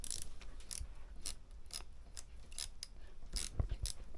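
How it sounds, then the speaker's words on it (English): Small screws being driven into the toe link of an Arrma Outcast RC car, a steady run of faint scratchy clicks and ratcheting screwdriver ticks repeating at an irregular rhythm, close up. "So now it's just a case of screwing this in."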